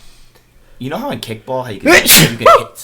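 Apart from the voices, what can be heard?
sneeze into microphone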